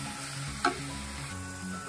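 Capsicum curry mixture fries in a pan with a constant, moderate sizzling hiss and one brief sharper crackle partway through.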